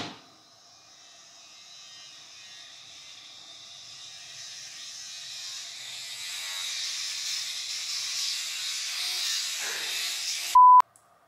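A child's vibrating electric toothbrush buzzes with a thin, steady hum that slowly grows louder over about ten seconds, then ends with a brief sharp click; nobody speaks.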